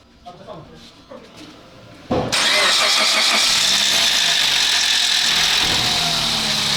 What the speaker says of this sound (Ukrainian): Якщо не сів акумулятор, має запуститися.